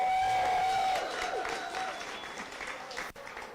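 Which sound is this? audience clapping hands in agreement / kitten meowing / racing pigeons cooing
audience clapping hands in agreement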